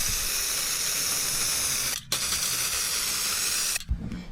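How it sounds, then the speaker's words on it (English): Aerosol spray of U-Pol satin black paint from a power can, coating a metal roof rack bracket: a loud, steady continuous hiss in long bursts, broken by two brief pauses between passes. "give it a coat of U-Pol satin black from a power can"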